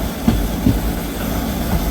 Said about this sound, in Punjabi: ਆਪਣੀ ਜਿਹੜੀ ਟ੍ਰੇਨ ਆ ਉਹ ਨਾਭਾ ਰੇਲਵੇ ਸਟੇਸ਼ਨ ਤੇ ਪਹੁੰਚ ਗਈ ਹੈ